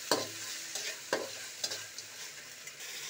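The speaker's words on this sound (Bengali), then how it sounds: "বন্ধুরা, কাঁকড়াগুলো একটু ভেজে নিলাম" Crabs frying in a pan of hot oil, a steady close sizzle broken by a few sharp scraping stirs of a spatula, with no talking.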